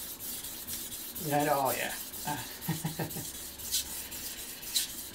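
A knife with a burr on its underside is worked on a Shapton Pro 1000 grit whetstone, soft scraping strokes close by, with someone briefly speaking over them partway through.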